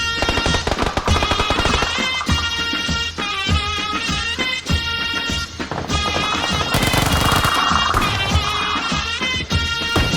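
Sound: gunfire in a video game

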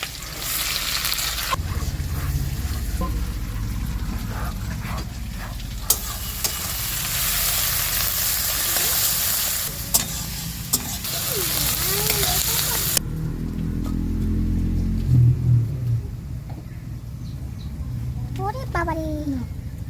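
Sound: garlic added to hot oil, sizzling

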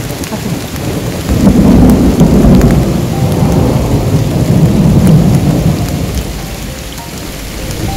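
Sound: heavy rain and thunder on Mount Slamet

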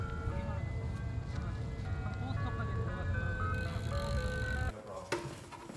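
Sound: ice cream truck passing outside

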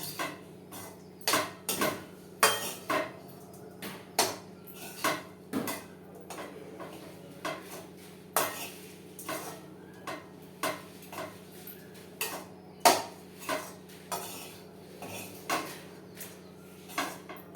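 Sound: stirring rice with curry leaf and coriander mix in a pan

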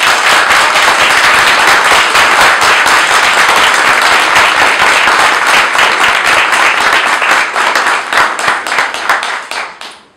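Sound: audience applause for Stanisław Michalkiewicz

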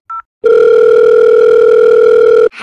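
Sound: telephone dial tone

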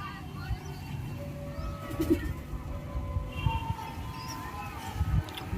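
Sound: pigeon cooing

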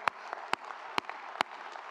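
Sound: congregation clapping hands in church

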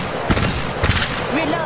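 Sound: gunfire in Apex Legends Mobile video game

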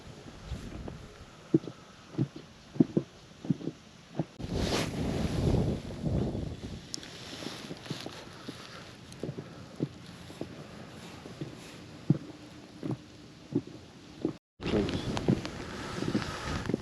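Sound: wind

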